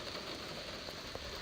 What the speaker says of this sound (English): now it's raining like mad